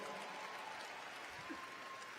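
A graduation commencement audience applauds steadily, a dense wash of clapping from a large crowd, heard from a distance at low level.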